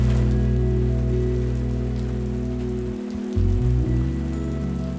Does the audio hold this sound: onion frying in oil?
no